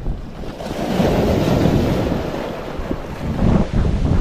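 Sea waves wash on a rocky shore near Shrivardhan, heard as a steady, loud surging rush mixed with heavy wind buffeting the microphone, with no talking.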